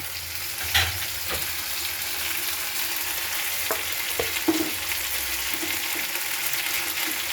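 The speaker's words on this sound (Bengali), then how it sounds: "নুন দেবো, হলুদ দেবো, একটু জল দেবো" Steady loud sizzle of a frying pan as salt, turmeric and a splash of water go in, with light scraping and stirring taps over the continuous hiss.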